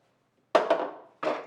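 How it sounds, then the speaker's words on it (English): A wooden drawer box is pulled out of a cabinet on white epoxy Grass drawer slides, making two quick hollow knocks close together, then a third after a short pause, each with a brief woody ring. "let's pull this drawer box out so I'm not messing around with it"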